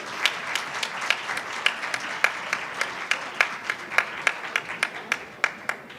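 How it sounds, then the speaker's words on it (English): Applause in a conference hall at an Islamic economics and finance conference, a thin, sparse crowd giving clear, separate claps at a roughly even rhythm over a soft bed of scattered hands, tapering slightly toward the end. "We need more claps."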